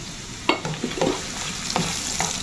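Chopped onion frying in melted butter in a pan, with a steady broadband sizzle under several sharp clinks and scrapes of a utensil against the pan; no voices.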